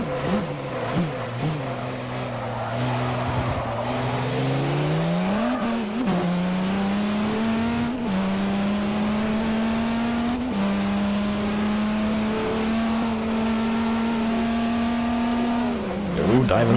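LMP1 prototype race cars roar through a Forza Motorsport 4 race, with one engine droning steadily at high revs after a brief dip and climb, loud and continuous with quick upshifts.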